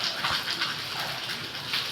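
A steady rush of light rain and runoff water flowing past a gate onto the road after a heavy downpour in Ahmednagar MIDC in July, a continuous broadband hiss without speech.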